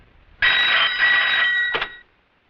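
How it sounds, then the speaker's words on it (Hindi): A telephone at a police station rings once with a loud, bright electric bell lasting over a second, then a short second burst, close and alone with no talk. "हेलो, कोतवाली पुलिस स्टेशन, नमस्कार।"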